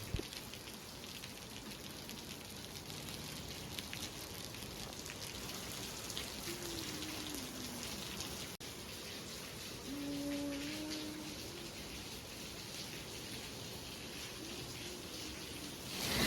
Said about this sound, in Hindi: इतनी तेज़ बारिश आ गई है